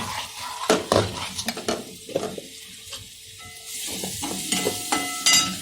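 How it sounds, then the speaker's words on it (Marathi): A spoon or spatula stirs a whisked batter-like mixture in a pan for thapiv vadi, scraping and clinking against the metal with a faint sizzle underneath, several quick strokes close by and no talking. "आता हे जे फेटून घेतलं ना मी थोडंसं पुन्हा एकदा हलवते"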